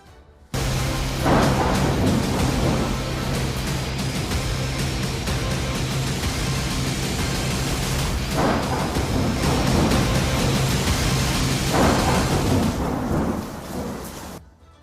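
Heavy monsoon rain in Karnataka, India, roaring steadily with deep rumbles of thunder rolling through it, loud and continuous before fading at the end.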